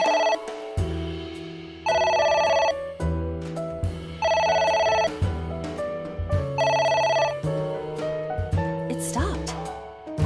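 Phone ringing in the video game Somnium Chloride: loud, regular electronic ring bursts, four distinct rings, with a faint bit of other game sound near the end.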